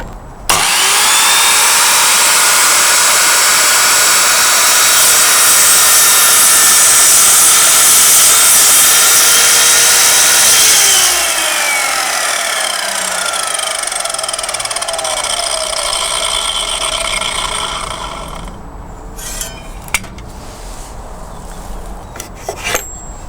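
Guild sliding mitre saw cutting wood: a loud, steady high-pitched motor whine with blade cutting noise that drops in pitch as it winds down, followed by a few small clunks of handling.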